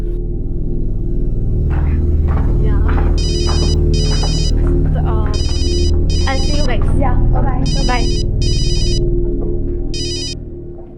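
A phone rings in repeated electronic bursts, loud and close, over a steady low background hum and indistinct vocal sounds.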